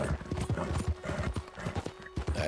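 A horse in Red Dead Redemption 2 clip-clops along at a steady trot, hoofbeats close and rhythmic, with a neigh blended into the pounding.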